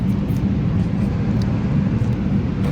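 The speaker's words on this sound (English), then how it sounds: "I can take this and thread it or hold it onto my polishing motor" A jewelry polishing motor runs steadily up close, a constant low whirring drone with no pauses across the whole stretch.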